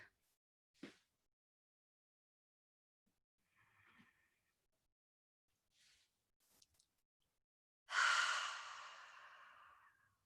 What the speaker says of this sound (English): Take a few cleansing breaths as needed.